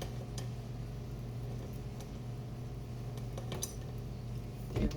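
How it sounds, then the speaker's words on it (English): A mixing bowl and whisk are handled in a home kitchen while making banana pudding, giving a few faint clinks and light knocks over a quiet background hum. "Let me get my bowl in here"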